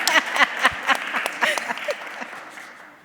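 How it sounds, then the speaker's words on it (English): Scattered, uneven hand claps from a summit audience, fairly close and moderately loud, thinning out and fading within a few seconds. "Thank you for clapping for me"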